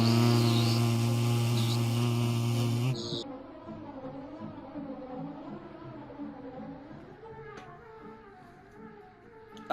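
A person's voice imitates an insect buzzing, a loud sustained droning hum lasting a few seconds before cutting off and giving way to quieter, muddled background sound.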